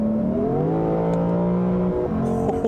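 Engine of a 2022 Lexus IS 500 F-Sport Performance, heard from inside as a steady, loud hum that climbs in pitch, drops at a gear change around two seconds, then rises again.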